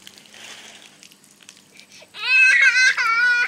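A small child cries out in a loud wailing burst in the last second and a half, after quiet babbling and faint background noise outdoors.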